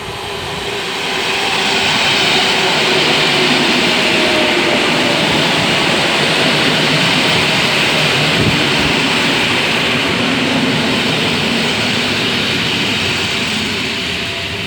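A PKP Intercity EU160 passenger train rumbles loudly and steadily past a platform, a dense continuous roar of wheels and engine that holds for many seconds before easing slightly.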